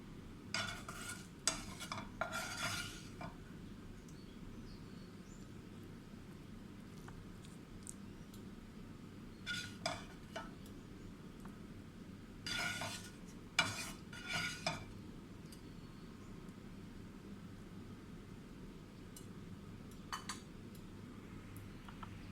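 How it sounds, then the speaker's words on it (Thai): Stir-fried mackerel with holy basil is scooped from the pan onto a plate in quiet, scattered bursts of scraping and clinking utensil strokes separated by near-silent pauses. "เดี๋ยวจะมาตักใส่จานนะคะ ใส่จานพร้อมเสิร์ฟแล้วนะคะ"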